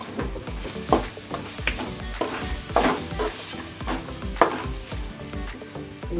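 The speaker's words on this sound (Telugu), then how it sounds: "మామిడికాయ తురుము వేగింది కదా, కొబ్బరి తురుము వేస్తున్నాను" Grated raw mango and grated coconut fry in a pan for coconut pulihora, with steady crackling sizzle and repeated scraping stirs knocking through it at close range, no voices.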